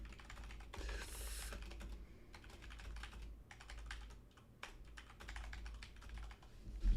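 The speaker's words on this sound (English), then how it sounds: "Oh my God, if I could type." Steady keyboard typing on a computer keyboard, rapid uneven key clicks running throughout at close range over a low constant hum, with no voices.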